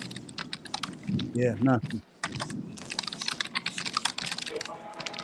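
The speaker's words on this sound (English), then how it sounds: "I can hear somebody typing." Rapid clicking of someone typing on a computer keyboard during an online call, close and steady, with people talking over and between the keystrokes.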